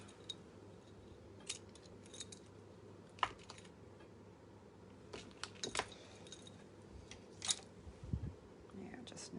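Scissors trim a small bit off a paper craft piece with a few sharp, close snips and clicks. Faint murmuring and light handling noises sit in the background.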